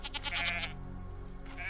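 Goats bleat in the game I Am Jesus Christ, a wavering, nasal bleat at the start and another brief one near the end, over a steady low background hum.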